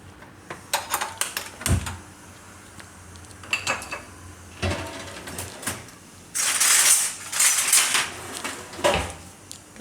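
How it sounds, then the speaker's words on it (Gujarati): Flour roasting with a little oil in a kadai while being stirred: scattered metallic scrapes and clinks of a spoon against the pan, sparse at first, then a denser, louder run of clattering near the end. "તો આ કઢાઈમાં આપણે લઈ અને એને આપણે શેકી લેવું."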